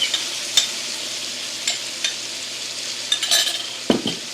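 A spoon stirs coconut milk into vegan mushroom stroganoff in a pan, giving a soft background sizzle broken by several sharp utensil clinks and scrapes against the pan, close and without speech.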